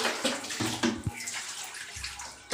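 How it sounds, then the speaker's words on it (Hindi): Water splashing and pouring in short bursts, as if tipped out from a bucket or tub during washing at home; close, fairly loud irregular sloshes with brief pauses between them. "पूरा पानी को तो फेंक रहा है बेटा"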